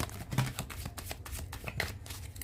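Tarot cards are shuffled close by, a rapid rhythmic riffle of repeated soft flicks and slaps lasting a couple of seconds, with no talking over it.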